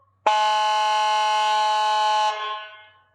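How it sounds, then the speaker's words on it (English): A Whelen CORE electronic air horn on a 2024 Ford Expedition blasts one loud, steady, brassy tone for about two seconds, then trails off quickly, with nothing else heard. "an air horn, they're both working"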